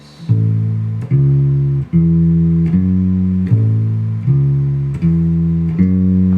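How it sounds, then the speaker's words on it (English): A plucked rock and roll bass line on guitar repeating a steady low pattern of sustained notes stepping up and down, clear and close with no voices. "the bass line sounds like this."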